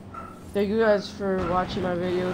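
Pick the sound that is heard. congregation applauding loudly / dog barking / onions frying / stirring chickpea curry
dog barking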